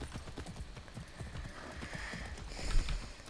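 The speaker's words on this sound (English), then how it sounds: "Did my horse wander all the way over here?" Horse hooves clip-clop in the video game Far Cry 6, a steady rhythmic trot of light knocks under soft ambient game sound, with a slightly louder thump near the end.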